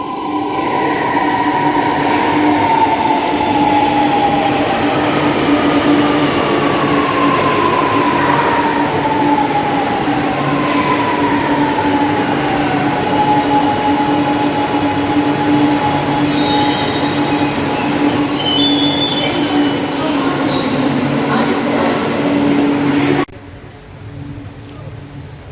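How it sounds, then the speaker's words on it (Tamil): A Chennai Metro train pulls into CMBT station with loud, sustained wheel squeal and rumbling, pitched whines sliding downward as it slows, then the noise drops abruptly near the end. "நம்ம ட்ரெயின் வந்துருச்சுங்க."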